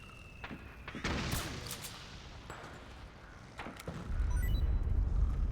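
Gameplay from Metal Gear Solid 4: Guns of the Patriots with a mortar in use, giving several scattered booming shots and impacts over ambient rumble, ending in a swelling low roar; no clear talk.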